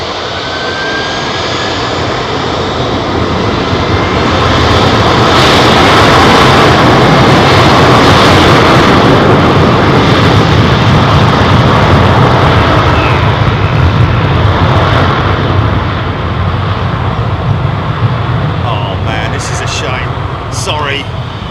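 Boeing 767 jet engines roar loud and steady at London Heathrow Airport, a broad sustained rumble that swells as the aircraft taxis in close, with a person talking over it.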